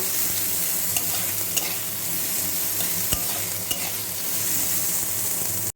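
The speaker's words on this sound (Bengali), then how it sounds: "ভালো করে ভেজে নেব, একটু নরম নরম করে ভেজে নেব।" Onion and garlic frying in a pan while being stirred, a loud continuous sizzle close up with a few faint scrapes and clicks of the spoon and no talking.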